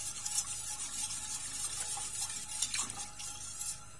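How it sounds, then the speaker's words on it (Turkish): A spoon slowly scrapes and stirs thickening chicken breast pudding, made with milk, flour, margarine and sugar, in a pot, giving soft repeated metallic scrapes and a faint bubbling, quiet and close, with no talk. "Tavuk göğsümüz koyulaşıp göz göz olana kadar bu şekilde yavaşça karıştıralım ki dibine tutmasın."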